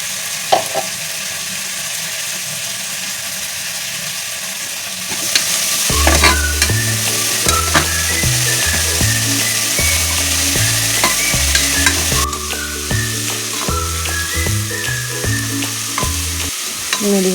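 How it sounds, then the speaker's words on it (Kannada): Spinach, ginger, garlic, green chillies and coriander leaves fry in a pan, a loud, steady close sizzle with a brief clatter at the start and music playing alongside. "ಇವಾಗೆಲ್ಲ ಫ್ರೈ ಮಾಡ್ತಾ ಇದ್ದೀನಿ"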